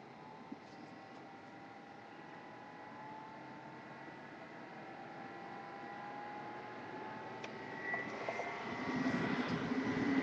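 Xbox 360 cooling fans spin at high speed, a steady whirring drone with tonal whine that holds throughout and swells slightly louder near the end.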